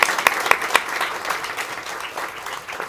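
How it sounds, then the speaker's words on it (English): Audience applause at the Nobel Peace Prize 2024 celebration, starting with a few sharp claps and settling into a steady, even patter that fades slightly over about three seconds. "I think we want to applaud that last comment."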